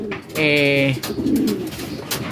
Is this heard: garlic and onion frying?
no